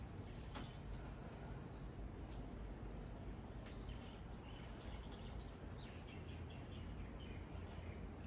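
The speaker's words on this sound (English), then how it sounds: "I'm gonna miss these bird sounds." Faint birdsong chirps and tweets scattered over a steady outdoor hiss, with no voices.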